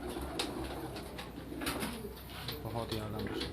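Golden Kamgar flying pigeons cooing softly and repeatedly at close range, low burbling calls over faint background noise and a murmur of voices.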